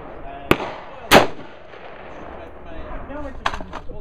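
AR-15 rifle firing 5.56 rounds at an outdoor shooting range, two sharp loud reports about half a second apart, then fainter distant shots, with people talking nearby.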